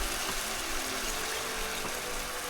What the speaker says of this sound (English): I'm gonna go ahead and I like to put some red wine